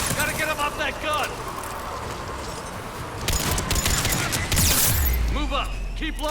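A trooper fires a mounted gun in the Mass Effect Legendary Edition video game, a dense, sustained fusillade of rapid shots. Other battle noise and voices overlap it, with a louder burst and a low rumble toward the end.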